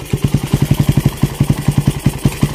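A Raider 150 motorcycle fitted with a 30mm open carburetor, its engine loud and close, blipping the throttle in a quick, steady series of sharp revs that pulse evenly through a few seconds with no one talking.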